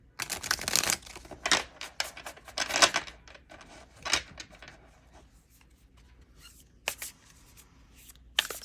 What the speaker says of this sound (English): let's pull some tarot cards